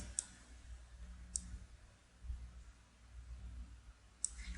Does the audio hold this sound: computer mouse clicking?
yes